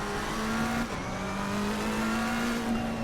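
Racing game engine audio of a McLaren on the Monza circuit, accelerating steadily with a loud sustained engine tone that rises in pitch, a brief dip near the first second as it shifts up, then pulls on.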